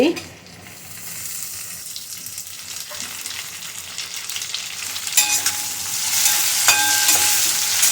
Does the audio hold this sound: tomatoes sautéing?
yes